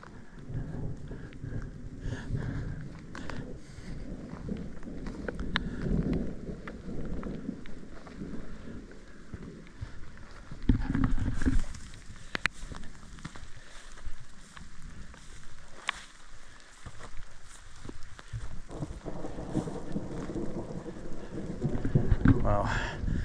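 Rain falls steadily around a parked Jeep, a soft broadband wash with patter that swells louder at moments, continuous through the whole stretch.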